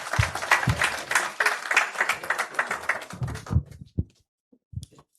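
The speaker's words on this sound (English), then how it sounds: "Another round of applause for Mr. Kenneth." Audience applause at a construction and real estate outlook conference, a lively burst of clapping that thins out into a few scattered claps before stopping.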